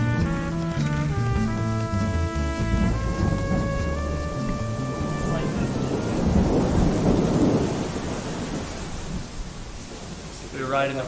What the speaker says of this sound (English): a storm blew in. Crazy storm.